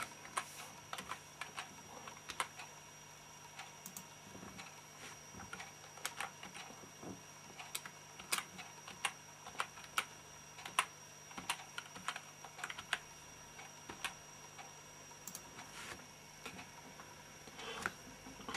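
Someone types on a computer keyboard while entering a Wi-Fi router's address, an irregular run of faint, close key clicks over a low steady hum.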